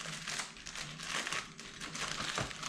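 Plastic packaging around a Mezco Hellboy collectible figure crinkles and crumples steadily during an unboxing, close and fairly loud, with no talking.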